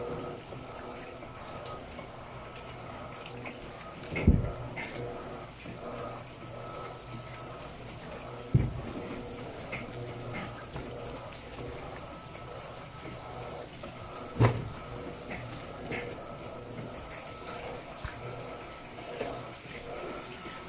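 Water pours steadily into an Electrolux top-loading washing machine drum as it fills, a continuous gushing flow punctuated by three brief knocks or clunks.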